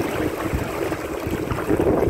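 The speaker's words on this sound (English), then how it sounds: "I'm sorry, but it is so windy" Strong wind buffets the microphone at a boating club by canal locks, producing a continuous low rumbling roar with gusty swells throughout.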